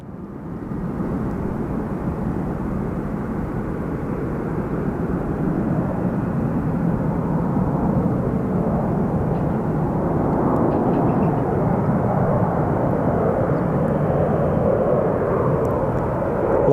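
A jet airliner, a SkyWest flight at Phoenix Sky Harbor Airport, roars in a go-around, its broad engine rumble swelling and holding steady and loud for the whole stretch, with no talking.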